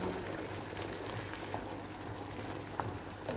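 Macaroni boils in a pot with a faint, steady bubbling and gurgling, with a few soft pops and ticks over a low continuous simmer.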